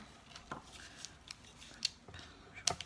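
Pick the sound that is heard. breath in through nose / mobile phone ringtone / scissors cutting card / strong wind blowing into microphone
scissors cutting card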